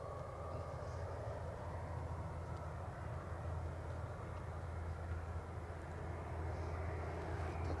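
A Ryanair jet airliner flies near Aberdeen airport, a steady low broad rumble of distant jet engine noise holding level throughout with no talking.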